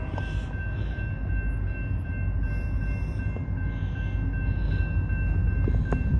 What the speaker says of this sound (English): now that the train is coming by